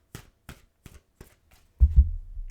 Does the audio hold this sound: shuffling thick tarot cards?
yes